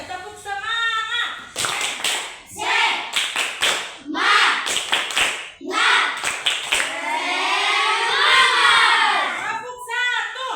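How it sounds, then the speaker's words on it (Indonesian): A school class performs a rhythmic clapping chant, bursts of many children's claps in patterned groups between chanted voices, close and lively, ending with a longer sung vocal stretch and a final clap. "Mari kita tepuk semangat dulu."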